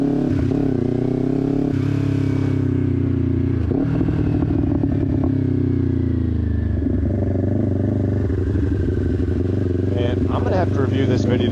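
A sport bike engine drones loudly and close while the rider shifts gears and downshifts, with the pitch dropping and rising at each change and wind noise rushing over it.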